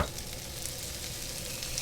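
Heaped garlic dropped into a pan of cooked-down onions sizzles and fries in a steady, close, dense crackle with faint stirring, no voices.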